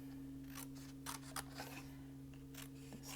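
Scissors cutting out a paper strawberry for a journaling card, a run of close, crisp snips at an uneven pace over a low steady hum.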